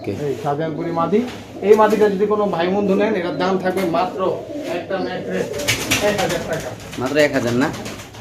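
Caged pigeons coo and burble continuously at close range, with people talking over them throughout.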